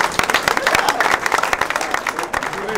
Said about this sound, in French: je pense que ça vaut des applaudissements entre nous